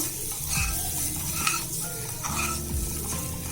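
Boiled eggs frying in a pan over a medium flame, a steady close sizzle with occasional stirring scrapes and light clinks.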